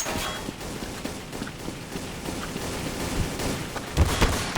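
Rapid bursts of rifle fire from the game Counter-Strike: Source rattle under low background clatter, with sharper shots building near the end.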